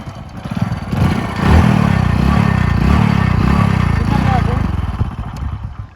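A motorcycle with its silencer fitted starts and settles into a loud, steady, throbbing idle close by, with a voice partly heard over it.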